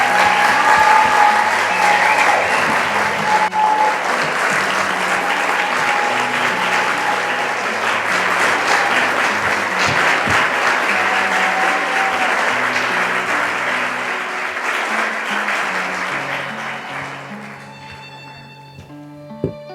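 An audience applauds the 2015 Youth of the Year, Saidah Sargent, as she is called up to the stage at an evening event. The clapping is loud and steady for about sixteen seconds, then thins out and fades near the end.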